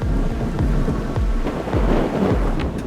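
Steady heavy rain pours down with repeated low rumbles of thunder rolling through it, a continuous stormy ambience in the Stalker video game, with no voices.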